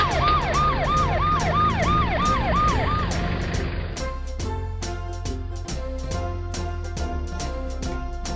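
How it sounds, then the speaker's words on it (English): A toy ambulance's electronic siren wails in rapid rising-falling sweeps, then switches to a beeping electronic tune with a steady beat, loud and close. "Ambulance."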